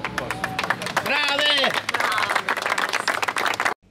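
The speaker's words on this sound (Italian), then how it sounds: "Ed un applauso alle signore del gruppo." A group of about sixty people at a Calabrian countryside picnic claps for the ladies of the group, a short burst of applause under cheerful shouting and voices that cuts off abruptly.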